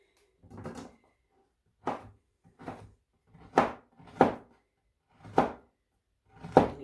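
Knife chopping ceremonial-grade cacao on a board, seven distinct thunking cuts spaced irregularly about a second apart, close and moderately loud with quiet gaps between.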